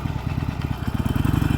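A Harley-Davidson Iron 883 Sportster pulls away, its V-twin engine pounding in a fast, uneven throb that quickens as it accelerates, loud and close with no talk over it.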